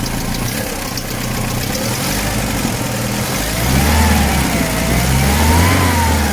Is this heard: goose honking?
no